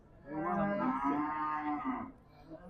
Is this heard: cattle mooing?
yes